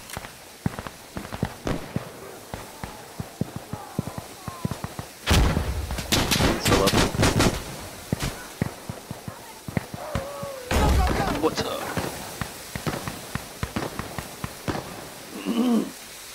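Gunfire in the video game Sandstorm: scattered single shots and bursts of automatic fire, some close and loud, others distant, with footsteps between and people talking over the action.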